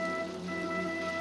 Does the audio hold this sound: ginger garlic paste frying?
no